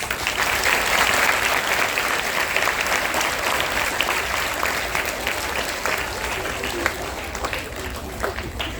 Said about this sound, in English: Let us give them a warm welcome with a huge round of applause.